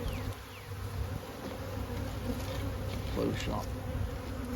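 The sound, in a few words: honey bees at a hive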